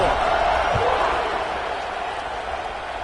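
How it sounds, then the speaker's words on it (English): A steady, dense crowd roar fills a College Football 26 stadium after a score, an even wash of noise holding for a few seconds with a commentator's voice over it. "this crowd is buzzing after that last score"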